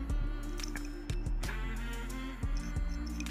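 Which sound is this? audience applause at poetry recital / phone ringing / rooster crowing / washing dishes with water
washing dishes with water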